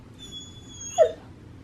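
Small dog Dixie lets out one brief, soft high whimper up close against quiet room hush, with faint thin tones lingering before it.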